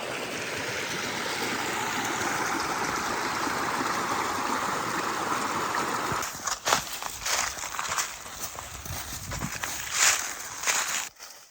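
Steady rushing water where Sneed's Creek meets the Buffalo River fills the first half, then fades behind crunching footsteps and rustling close by.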